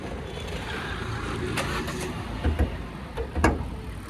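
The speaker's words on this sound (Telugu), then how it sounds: "ఇంజిన్ సౌండ్ వినండి." A Hyundai Verna 1.6 SX petrol engine idles with a low steady rumble, a few louder revs or knocks standing out near the end.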